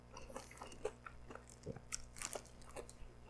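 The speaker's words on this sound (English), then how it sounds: "a good bit of crunch on the outside with that breading" Crunchy breaded ghost pepper buffalo chicken tenders are bitten and chewed close to the mic, giving a series of sharp crisp crunches spread irregularly over a few seconds with no talking.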